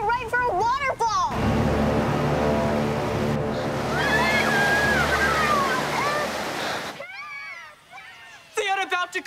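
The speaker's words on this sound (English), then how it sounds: "we're headed right for a waterfall!" Rushing water roars steadily in a DuckTales cartoon as the characters head toward a waterfall, a loud broad wash lasting several seconds, with animated voices talking and exclaiming before, during and after it.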